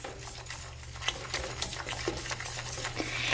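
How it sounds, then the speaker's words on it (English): A whisk is beaten hard through hot chocolate in a bowl, giving soft, quick scraping and clinking taps in a steady rhythm. It stays close and fairly quiet over a low hum, with nobody talking. "you want to stir it with your whisk really hard until it all comes together"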